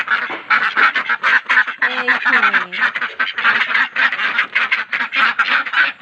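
A dense flock of ducks quacks continuously and loudly, overlapping calls in a busy chorus close by.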